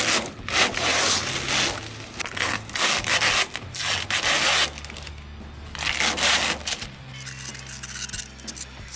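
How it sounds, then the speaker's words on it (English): Masking tape peeled off freshly painted flames on a Mustang, with a series of close, scratchy ripping and rubbing strips in uneven bursts, some long tearing pulls and pauses between. "I'm gonna take the tape off the flames"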